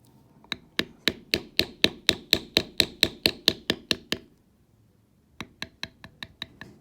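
A mallet strikes a metal bevel stamp on leather while shading a flower petal, producing a rapid, even series of about sixteen sharp taps, then a brief pause and about seven more, all close and crisp.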